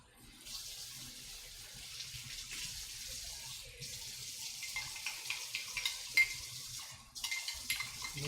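Water runs from a tap into a cup of cornstarch in a kitchen, a steady rushing stream with faint clinks as the slurry is stirred, no talking.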